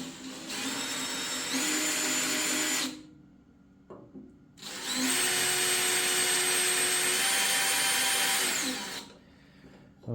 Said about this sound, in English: so we're just going to drill through nice and slow.